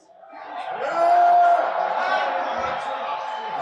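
A loud crowd at a wrestling show in London chants in unison, a dense, sustained roar of many voices with a steady pitched chant line and no break in the noise.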